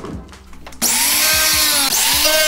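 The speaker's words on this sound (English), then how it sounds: "I'm just gonna use my grinder." An angle grinder spins up abruptly and bites into a kayak keel guard strip, a loud, close whine with rising and falling pitch as the disc loads and frees up during the cut.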